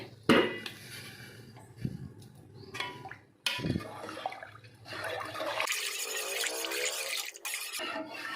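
A metal pot clanks a few times, then water pours and splashes steadily into it for the last few seconds.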